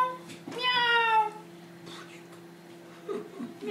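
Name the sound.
voice imitating a cat meowing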